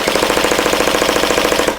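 A sand-coloured MK8 airsoft gun fires a rapid, steady full-auto burst of about two dozen soft, even shots, close and loud, then stops.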